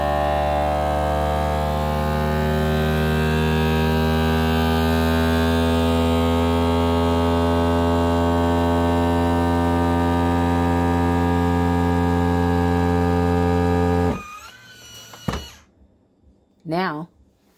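A vacuum sealing machine with an accessory attachment drawing air from a container of Halloween candy, a loud steady motor hum that stops abruptly, followed by a few clicks and someone speaking.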